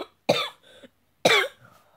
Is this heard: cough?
yes